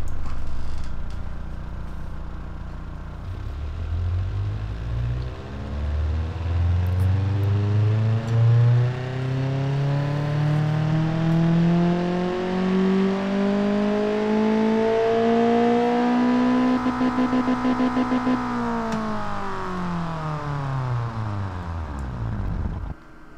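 A simulated 1.6-liter engine on a dyno run in the Automation game sweeps smoothly up through the rev range for about fifteen seconds, holds near the top, then drops quickly back down, one continuous loud tone with no voices.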